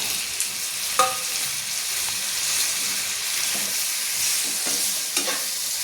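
Ridge gourd frying and being stirred in a pan for a green chili chutney, a steady close sizzle with a few sharp scrapes and clinks of the spoon against the pan, no voices.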